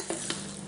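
Hot mustard seed tempering is poured into coconut chutney, giving a brief sizzle and two quick clinks of a ladle, soft and close, with no talking.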